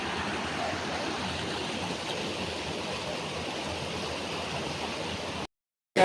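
A village stream in the Konkan near Dapoli rushes steadily with a dense, even hiss of flowing water, then cuts to silence near the end before resuming.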